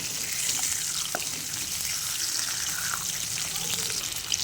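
Pieces of fish, road-side fish fry, shallow frying in a pan, giving a continuous bright sizzle and crackle at close range with no break.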